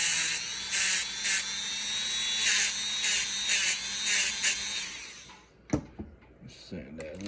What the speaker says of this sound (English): Just sand that a little bit so I can make it look a little nicer than what it is